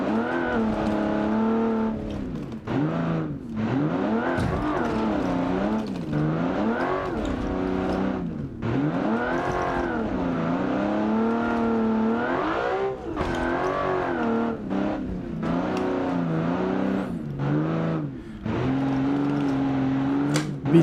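A BAJA competition buggy drives hard in four-wheel drive, its engine droning loud and close with constant revving and pitch swings as it accelerates and backs off through the run.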